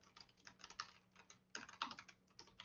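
Fast, light keystrokes on a computer keyboard, soft irregular clicks in quick runs, close and quiet with no speech.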